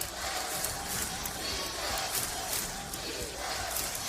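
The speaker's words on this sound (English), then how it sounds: "the partisan crowd chants defense" Partisan arena crowd at the 2004 MAAC men's basketball semifinal between Siena and Niagara, chanting defense in a steady, dense roar that fills the whole stretch without letup.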